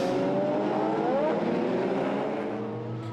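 Race cars, including a Radical SR8, accelerate toward the La Source corner. Their engines scream and rise in pitch as they pass close by in a dense, overlapping pack.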